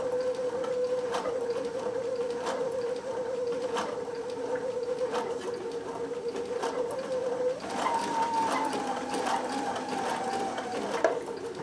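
Babylock Sashiko sewing machine couching yarn, a steady close motor hum with regular soft stitch ticks; partway through the motor pitch rises slightly and the stitching continues.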